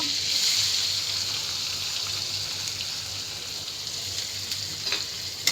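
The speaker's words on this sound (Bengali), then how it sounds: "পেঁয়াজগুলো দেখো আমি লাল লাল করে ভাজে নিচ্ছি" Chopped onions fry in oil over cumin seeds and chopped green chillies, making a continuous dense sizzle and crackle close by, steady from start to finish.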